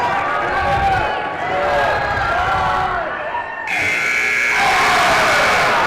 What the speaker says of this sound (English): Caden Pearson hits one at the buzzer from Monticello